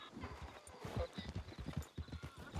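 Horse hooves clip-clop in a quick, uneven walking rhythm in Red Dead Redemption II, moderately close and fairly quiet, with a soft whinny or snort mixed in.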